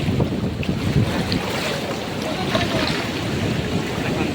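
Sea waves washing up onto the beach at Puri, a steady broadband wash of surf with heavy wind buffeting the microphone throughout, loud and close.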